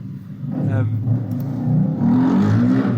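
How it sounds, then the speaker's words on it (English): Motorbike passing close by, its engine rising into a loud, rumbling rev and then droning away, heard under a conversation. "excuse the motorbike"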